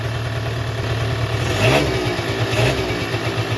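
A Suzuki LT-80 two-stroke ATV engine from a barn find runs steadily and then revs up twice in quick blips, buzzy and close.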